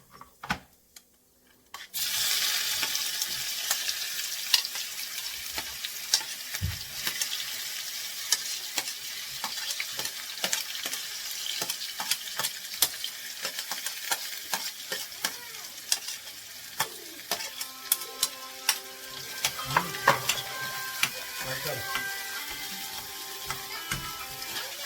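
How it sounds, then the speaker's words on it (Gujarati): Chopped tomato and onion hit hot oil with a sudden loud sizzle after a quiet start, then fry steadily for over twenty seconds while a utensil stirs and scrapes the pan in irregular clinks. "એનો વઘાર કરી નાખીએ"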